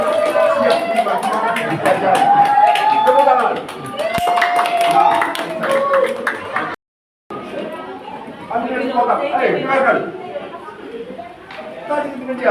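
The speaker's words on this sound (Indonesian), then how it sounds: "Tepuk tangan." Audience at a community outreach event on hero names clapping hands, bursts of applause mixed with crowd chatter and voices, broken by a short silent gap before the clapping and talk resume.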